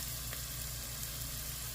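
Masala, onions and curry leaves sizzling in a pot, a constant soft frying hiss with a low steady hum underneath, fairly quiet and uninterrupted.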